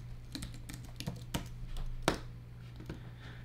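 A computer keyboard is tapped in a short burst of password entry, with a series of light, irregular keystrokes and one sharper press, close and quiet over a faint electrical hum.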